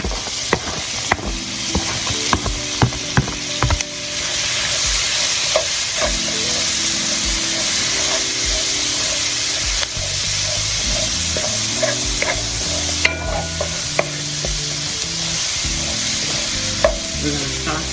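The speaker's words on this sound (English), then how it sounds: "We're gonna saute our peppers and onions down." Peppers and onions sautéing in a smoky pan for a homemade chicken dish: a loud, close, steady sizzle broken by frequent scraping and knocking stir strokes, with no talking.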